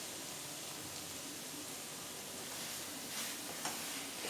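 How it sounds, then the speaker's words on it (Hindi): Chicken seekh kebabs fry in oil with a soft, continuous sizzle and an occasional stir, heard faintly and alone. "चिकन सीख कबाब भून चुके हैं अच्छी से, आप देख सकते हैं इन्होंने तेल छोड़ दिया है।"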